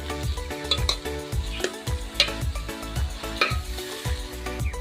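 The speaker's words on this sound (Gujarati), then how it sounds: "તેને બરાબર હલાવી દેવાનું છે" Spoon stirring cholafali sabji, a Gujarati dish of cowpea beans, in a sizzling pan: rhythmic scraping strokes about twice a second, close and clear over a continuous frying sizzle.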